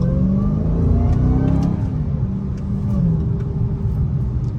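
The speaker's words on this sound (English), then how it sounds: "I'm barely stepping on the gas" A 2021 Dodge Charger SRT Hellcat Redeye accelerates on the road, its engine a loud, continuous low rumble with rising and falling revving tones heard from inside the car, with no talk.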